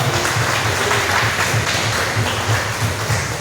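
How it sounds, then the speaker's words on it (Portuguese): A church congregation gives loud, sustained applause during a worship service, a dense continuous wash of many hands clapping throughout. "Agora eu te convido a dar a mais forte salva de palmas ao Senhor Jesus"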